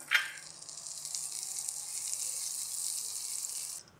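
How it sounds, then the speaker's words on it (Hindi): Butter melting in a pan on the stove, a soft, even sizzle that begins after a small clack and stops abruptly near the end. "बटर को मेल्ट करेंगे।"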